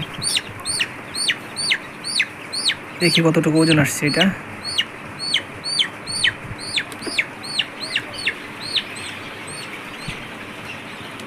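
Sonali super hybrid chickens on a farm give a steady run of short, sharp clucks and chirps, one every half second or so, close and clear, while a person speaks briefly near the start.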